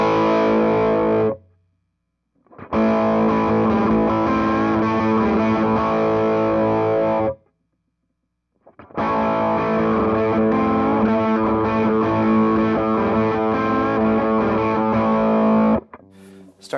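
Electric guitar through a Wampler Pinnacle Deluxe overdrive pedal plays thick, distorted chords in two long strummed passages separated by silent gaps, loud and up close.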